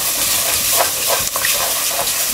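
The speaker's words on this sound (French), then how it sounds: "on a bien fait saisir nos petits échalotes et lardons" Shallots and lardons searing in a hot pan, a loud, steady sizzle and crackle close up with a few stirring scrapes.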